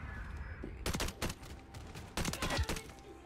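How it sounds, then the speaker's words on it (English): Shotgun blasts in Call of Duty Modern Warfare 3 during a multiplayer gunfight, several sharp booming shots in two quick bursts with pauses between, loud and close, with no talking. "That weak ass shotgun, bro"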